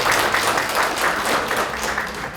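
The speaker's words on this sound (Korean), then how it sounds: "박수로 환영해 주시기 바랍니다." An audience at a party members' meeting applauds to welcome a committee vice-chair, a dense, sustained burst of many hands clapping in a hall, fairly close and steady throughout.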